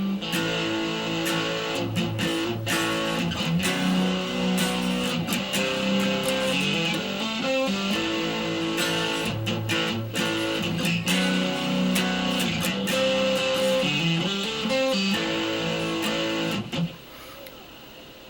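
Distorted electric guitar plays a chorus riff, repeated chord patterns with rhythmic accents, steady and loud for most of the stretch before dropping away near the end.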